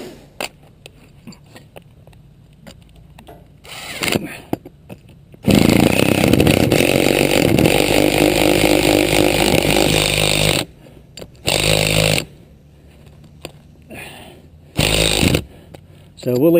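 A power tool driving an anchor into a roof for a DIY solar racking install, a loud sustained grinding burst of several seconds followed by a few shorter bursts, with quiet gaps between.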